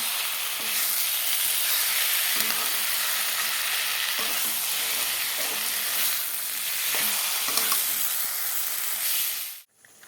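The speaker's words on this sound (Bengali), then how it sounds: "এখন কিছু সময় ভালো করে মশলার সাথে কষিয়ে নেব টমেটোগুলোতে" Tomatoes cooking down with spices in a pan give a loud, steady sizzle and hiss with faint stirring scrapes, continuing unbroken until it cuts off abruptly at the end.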